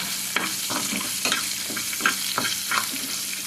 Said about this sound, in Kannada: ಚೆನ್ನಾಗಿ ಫ್ರೈ ಮಾಡುವ